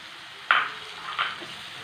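Finely chopped onion, two small onions, hits a hot pan with a sudden sizzle, followed by a second softer burst as it is stirred, then a low, quiet frying hiss.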